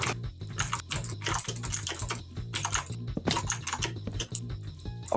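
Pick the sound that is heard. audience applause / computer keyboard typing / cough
computer keyboard typing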